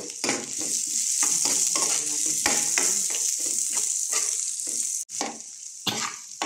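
Sardines sautéing with pechay in cooking oil, a close, loud, continuous sizzle broken by repeated stirring scrapes and clatters of a utensil in the pan.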